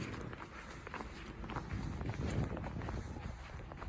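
Footsteps of a person walking back outdoors in Sisimiut, Greenland, a soft steady run of steps heard fairly close, faint and even throughout.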